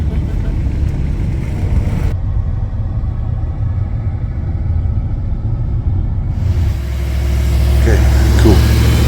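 A car engine idles with a low, steady rumble, then grows louder and deeper as the car starts to roll out. It sounds close, with no speech over it.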